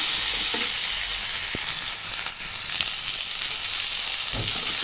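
Potatoes, with pointed gourd, fry in a pan with a loud, dense, continuous hiss close by. A few faint taps of a utensil sound through it, and no one talks.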